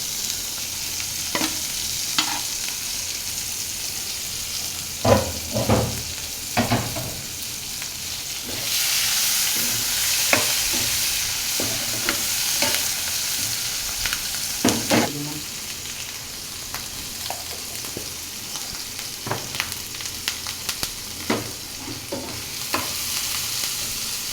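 Chopped onion, green chili and cumin paste fry in a pan under a steady, close sizzle, broken by frequent clinks and scrapes of a spoon stirring against the metal and one brief louder hiss.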